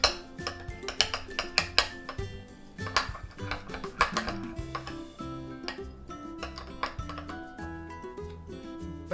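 Spoon stirring softened butter and peanut butter in a mug, a steady run of close ceramic clinks and ticks with faint scraping, bright and rhythmic throughout, no talking.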